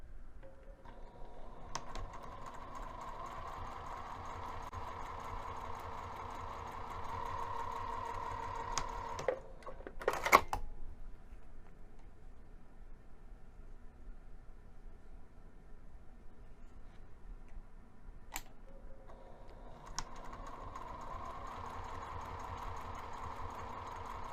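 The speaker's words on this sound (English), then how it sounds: "we're going to take this over to the sewing machine" A sewing machine whirs steadily through long runs of stitching, pausing briefly with a few clicks before starting again, close and moderately quiet.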